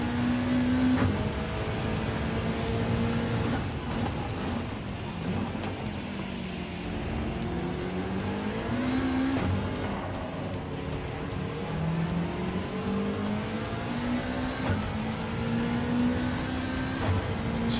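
A Subaru WRX Gr. 3 race car in Gran Turismo revs and accelerates, its engine tone climbing and falling through gear changes in a steady, continuous drone with no talking.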